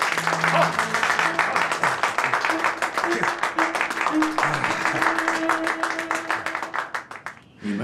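A small group claps to approve a vote at a guild meeting in a Chinese TV drama. The clapping is brisk and steady, with a held musical tone underneath, and tapers off at the end.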